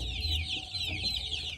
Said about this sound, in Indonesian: Ini adalah anak ayam kita yang sudah berusia 2 minggu.